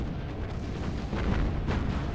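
Naval gunfire in the Battlestations Pacific warship game, a dense, rumbling, continuous barrage of booms and blasts filling the short stretch with a heavy low roar.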